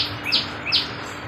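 Two short, bright chirps from a bird on a rainy morning, evenly spaced and fairly faint, over a soft steady background hiss.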